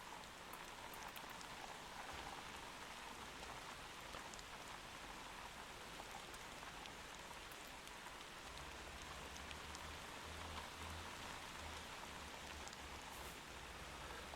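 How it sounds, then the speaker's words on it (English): Rain falling in the video game Motor Town, a steady, dense hiss of drops on surfaces with no pauses, soft and even throughout, with a faint low engine hum joining partway through. "And now it's raining."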